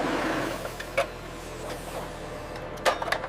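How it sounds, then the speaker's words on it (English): A can double seaming machine crimps lids onto cans of brined banana blossom in a rustic factory, giving a steady mechanical whir with a few sharp clanks, close and moderately loud, with no talking. "The double seam operation hermetically seals the banana blossom for long-term storage."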